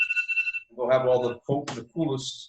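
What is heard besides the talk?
alarm ringing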